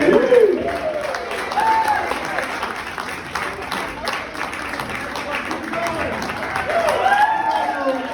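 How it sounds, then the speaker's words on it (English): Scattered applause from an audience at a preschool fundraiser comedy show, steady and moderately loud, with a voice talking over it throughout. "Clap it up for your host here."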